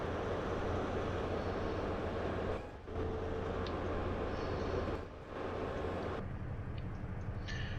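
A Class 43 HST train in Train Sim 2020 departs Larbert with a loud, steady, close engine rumble and broad rolling roar. The sound dips briefly twice and there is no talk.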